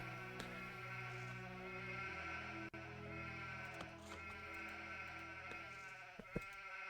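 Sheep bleating on a farm in the Anno 1503 building game, several faint bleats over a steady tonal music-like drone, with a couple of soft clicks.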